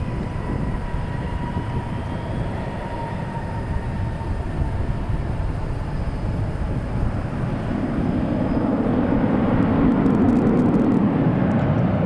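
An old Airbus airliner passes at a large airport, a broad, steady roar of engine noise that swells slightly louder toward the end with no talk over it.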